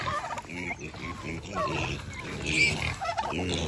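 A farm flock of turkeys gobbles on a cool outdoor morning, with many overlapping gobbles and clucks forming a continuous chattering din at moderate distance.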